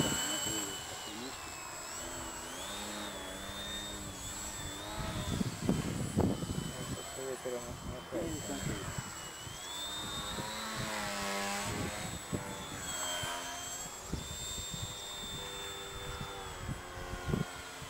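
A small propeller airplane's engine runs steadily throughout during a ground run or taxi with the brakes in use, a continuous drone with rising and falling whine, while people talk over it close by.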